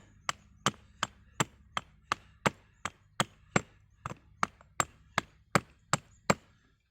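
Sharp, regular chopping strikes ring out about twice per second, some fifteen crisp blows as mulga wood clap sticks are carved to sharp points, close and clear with no talking.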